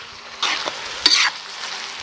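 Mince and liver fry in a pan with browned onions, giving a steady sizzle with two louder bursts as the meat is stirred, no talking.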